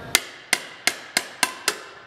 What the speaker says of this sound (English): so take the brass hammer,